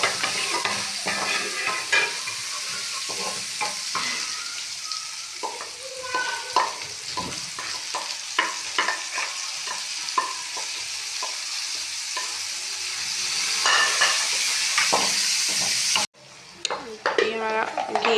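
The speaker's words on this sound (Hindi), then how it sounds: "घी को अच्छे से गर्म करेंगे।" A spoon stirs and scrapes in a pan while ghee heats and sizzles softly, with clinks of metal on metal close by, then a brief pause.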